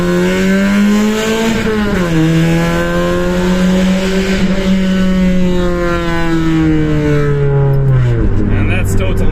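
A Suzuki Wagon R+ engine revs hard inside a tunnel, its pitch climbing and dropping through gear changes over about nine seconds, loud and echoing, with some talk mixed in.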